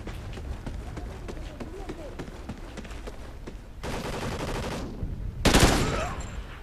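Rapid gunfire from an online multiplayer match of the video game Call of Duty: Ghosts, with bursts of automatic shots under continuous game audio and a loud, harsh blast near the end.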